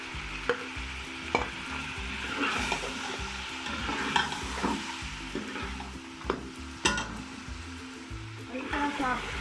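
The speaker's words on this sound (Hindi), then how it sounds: "इसके अंदर 1-2 मिनट फ्राई कर लिया प्याज़ों को भी" Ground onion paste fries in a pan for Punjabi chicken karahi, sizzling steadily while a spoon scrapes and stirs in irregular strokes, with a few sharp clacks against the pan.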